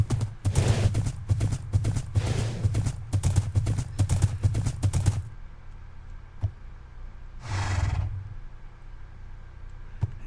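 A horse in the Minecraft video game clip-clops steadily in a rapid run of hoofbeats for about five seconds, then goes quiet except for one short burst of noise a little later.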